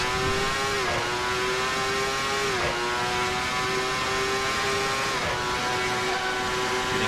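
Ferrari 412 T2 V12 Formula One car engine screaming at high revs, with three quick upshifts where the pitch drops and climbs again, loud and close with no talk.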